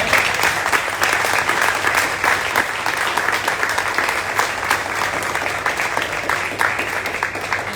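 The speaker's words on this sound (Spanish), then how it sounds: "Un aplauso, por favor." A crowd applauds after a talk on Ursula K. Le Guin, with sustained, dense clapping from many hands at moderate distance, steady throughout.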